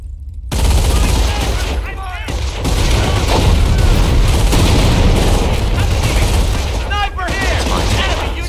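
Gunfire in the Company of Heroes video game, set at Carentan: loud, continuous bursts of rifle and machine-gun fire with booming impacts and brief game voice callouts, almost without pause.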